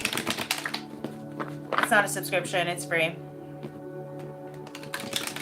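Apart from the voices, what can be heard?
tarot cards being shuffled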